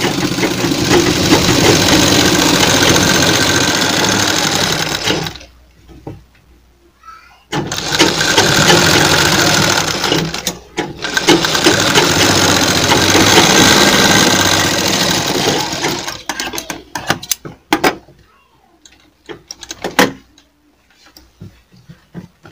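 An electric sewing machine running full stitching along a cotton kurti: long loud runs of motor whirr broken by short pauses, then quick stop-start bursts toward the end.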